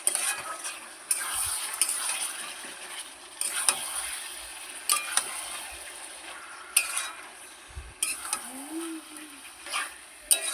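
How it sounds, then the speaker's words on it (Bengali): Chicken sautéing in a pan for a home lunch, with a spatula scraping and stirring in irregular clinks over a soft steady sizzle, close by. "চিকেন কষা হচ্ছে।"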